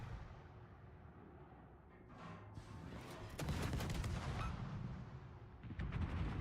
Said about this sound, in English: It does seem like these drop bombs are a little more easier to use. They seem to drop faster.